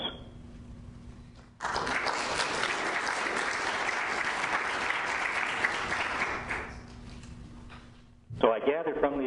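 Audience applause at a panel event on de-extinction ethics and conservation biology, a dense burst of clapping that starts abruptly, holds steady for several seconds, then fades into a speaking voice.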